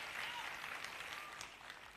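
Audience applause at a motivational speech event, a steady dense wash of clapping lasting the full two seconds, fairly faint and even, easing slightly toward the end.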